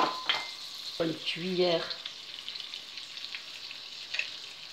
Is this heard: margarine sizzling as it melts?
yes